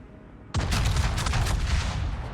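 Naval guns on a ship firing shells in a World of Warships ranked match, a sudden loud blast followed by sustained booming and rumbling salvo noise for about two seconds.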